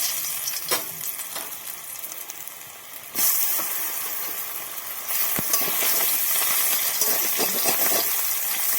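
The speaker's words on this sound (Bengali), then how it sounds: "নাড়িয়ে নিয়ে এটাকে আমি ভাজতে দেবো।" Mushrooms frying in a pan for mushroom chilli, a steady close hiss of sizzling that jumps louder twice as more goes in, with clinks and scrapes of stirring.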